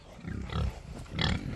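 A pig grunts in short bursts while being herded up a hill to a fresh paddock on a pasture farm, two or three close, low snorting grunts with no talk over them.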